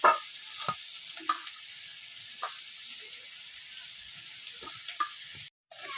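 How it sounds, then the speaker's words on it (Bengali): Potatoes sizzle in hot oil in a pan, a steady bright hiss running throughout, broken by a few sharp crackles and pops, with no talking. "আলুটা আমার ভাজা হয়ে গেছে এবার এটা তুলে নেবো"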